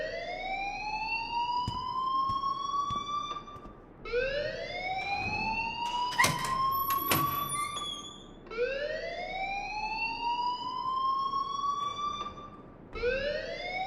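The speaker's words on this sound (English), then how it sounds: "please turn off that alarm since that's your job" An alarm wailing in the Life Is Strange video game, a loud rising siren tone that repeats in long cycles of about four seconds, with some brief clatter partway through.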